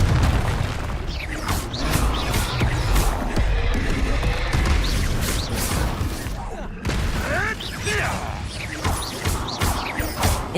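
Confringo blasting-spell explosions in the wizarding game Hogwarts Legacy, a dense run of loud booms and crashing bursts over constant battle noise, with voices calling out spells.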